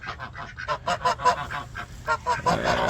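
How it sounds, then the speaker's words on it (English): Several geese honk in a loose, repeated series of nasal calls, fairly close and loud, with a denser burst of honking at the end; no talking over them. "Sorry, my geese."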